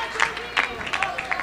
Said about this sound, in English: Nice round of applause from the fans here.